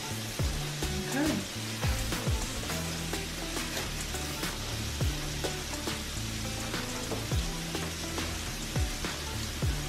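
Oxtails browning in a hot pan give off a steady, dense frying sizzle with scattered pops and crackles, close and continuous throughout.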